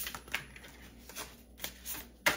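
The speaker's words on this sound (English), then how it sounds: "Let's get a few more shuffles." Tarot cards are shuffled by hand in short, crisp riffling bursts, several quick flutters separated by brief pauses, close and fairly quiet with no talking.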